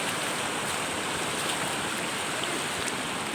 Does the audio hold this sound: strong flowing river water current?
yes